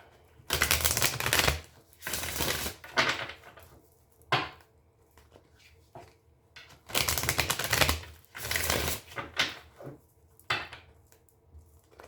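Tarot card deck being shuffled, with repeated bursts of rapid riffling and clattering cards separated by short pauses and single sharp taps, close and fairly loud with no talk.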